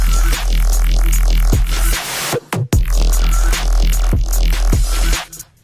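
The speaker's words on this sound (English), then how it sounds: "It gets these little wobbles." Loud electronic music drop built on sweeping wobble bass whose filtered tone rises and falls in repeating waves over heavy low thumps, cutting out briefly midway before resuming and fading at the end.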